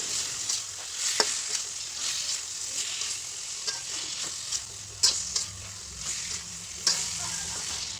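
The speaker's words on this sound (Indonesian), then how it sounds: "Kemudian aduk hingga tercampur merata dengan bumbu dan hingga ikannya matang." Salted fish balado frying in a pan, with a steady bright sizzle and occasional scraping clicks of a utensil stirring the fish through the spice paste, close and continuous without talk.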